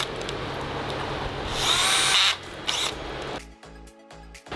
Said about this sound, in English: We're gonna drill out these holes right here.